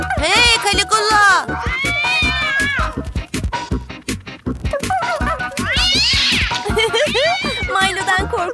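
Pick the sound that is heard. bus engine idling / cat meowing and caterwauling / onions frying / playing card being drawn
cat meowing and caterwauling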